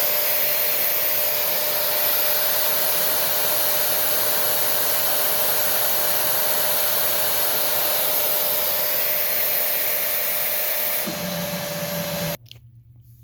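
A Simplicity Quicksilver vacuum cleaner runs loud and steady with a constant high whine, its pitch shifting briefly near the end before the motor cuts off abruptly.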